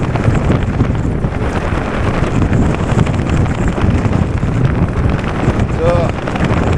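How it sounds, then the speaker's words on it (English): Strong, steady wind buffets the microphone while riding a Wooken e-bike in bad weather, a constant loud rushing roar with no break throughout. "I'm still fighting the wind."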